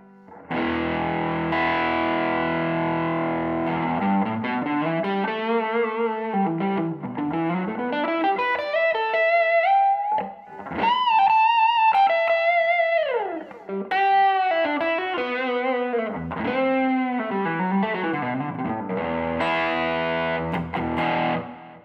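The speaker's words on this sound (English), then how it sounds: "I'm using a JHS Andy Timmons overdrive box on the floor" An electric guitar on a Gibson Billy Gibbons Artist Proof, neck pickup through a JHS Andy Timmons overdrive pedal, plays a continuous lead line of sustained, bending notes with smooth overdrive, loud and up close for about twenty seconds.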